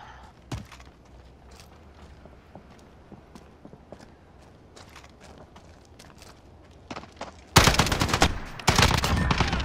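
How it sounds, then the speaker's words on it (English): Three-shot burst gunfire in Call of Duty Modern Warfare, arriving as loud, dense volleys of shots late in the scene, after a quieter stretch of scattered clicks and footsteps. "I didn't realize it was a three-shot burst"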